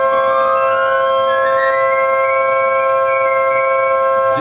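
An 1865 Forster & Andrews pipe organ, under restoration, holds a sustained chord during tuning, loud and steady with a gliding higher tone rising through it, heard alone with no voices.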